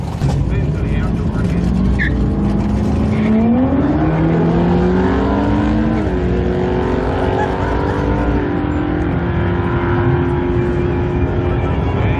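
A drag race car launches and accelerates hard down the strip, its engine note rising steadily through the gears, loud and sustained, with brief shifts; faint voices underneath.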